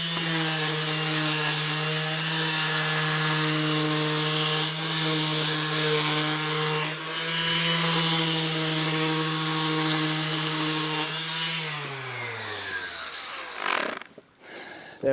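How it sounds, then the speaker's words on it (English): An orbital sander runs over a wooden stair tread during an old house renovation, a steady loud electric whine with a strong hum that winds down toward the end and cuts off. "now is get the orbital sander and run it over"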